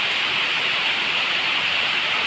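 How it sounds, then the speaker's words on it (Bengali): Heavy rain pours down in a dense, continuous roar of broadband hiss, steady and loud for the whole stretch. "এত বৃষ্টি পড়ছে না, খুব বৃষ্টি পড়ছে"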